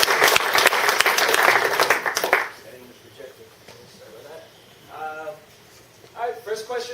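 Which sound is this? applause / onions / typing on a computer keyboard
applause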